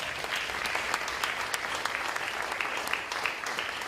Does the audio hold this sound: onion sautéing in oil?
no